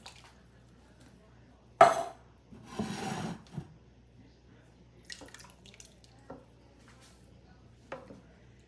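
Two cans of petite diced tomatoes with their juice are tipped into a pot holding beef broth for a cowboy stew: a sudden wet splat, a short sloshing pour, then faint scrapes in quiet surroundings.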